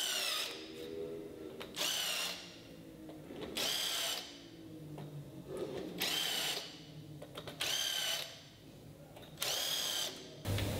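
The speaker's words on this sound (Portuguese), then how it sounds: "Devemos escariar, que é um parafuso de cabeça chata." A power drill countersinks a hole for a flat-head screw while a broken wooden bed frame is repaired, whining in six short, loud, close bursts separated by brief pauses.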